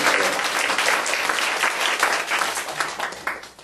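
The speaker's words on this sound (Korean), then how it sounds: "우리 다녀오신 분들, 그래서 한 번 더 박수로 너무 잘하셨습니다." A church congregation applauds during a Wednesday worship service, giving dense, continuous clapping from many hands that fills the room and slowly thins toward the end.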